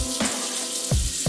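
Tap water pours steadily into a bowl in a kitchen sink, a loud continuous splashing stream with a couple of slightly heavier gushes near the end.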